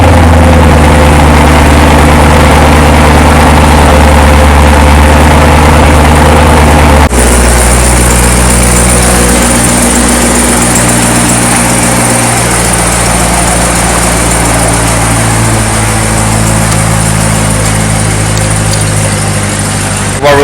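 A rebuilt 2017 Corvette Z06, previously wrecked, cranks and fires up, then settles into a loud, steady, rumbling idle close by, running on with no talk.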